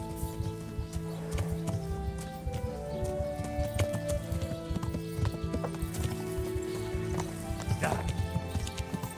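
Video-game horse hooves clip-clopping steadily with a neigh partway through, loud and close over a layered game soundtrack, with a voice briefly speaking.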